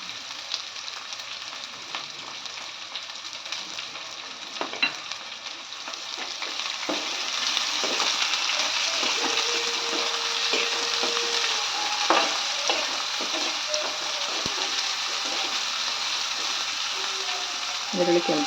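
One large onion, finely chopped, fries and sizzles steadily in a pan while being browned for tomato gojju. The sizzle is close and constant, swelling louder halfway through with occasional scraping stirs.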